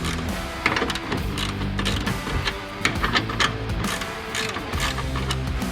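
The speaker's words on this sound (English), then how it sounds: "These are a 13mm, so we're gonna go ahead and tighten those up" Ratchet wrench clicking steadily while tightening 13mm nuts on the hood strut mounts of a Ford Bronco Sport, close and fairly loud, with short bursts of rapid pawl clicks and brief pauses.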